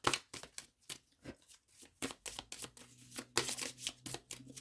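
Tarot cards are shuffled by hand in quick, irregular bursts of riffling and slapping, close and fairly quiet, with short pauses between the flurries.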